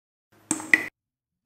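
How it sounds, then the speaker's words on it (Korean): Water drop sound effect sample used in a song production, two short, bright plinks in quick succession, isolated and clear, followed by silence and the onset of another sound. "이런 식으로 이제 물이 떨어지는 소스를 하나를 이제 넣었어요."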